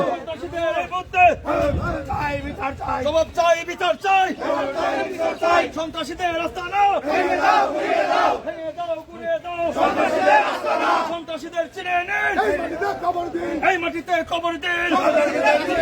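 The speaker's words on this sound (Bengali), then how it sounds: "আমরা দেখতে পাচ্ছি যে বিক্ষোভ স্লোগান হচ্ছে" A large crowd chants protest slogans in rhythmic unison at a demonstration demanding the quick arrest of attackers, loud and close, with repeated call-and-response bursts running throughout.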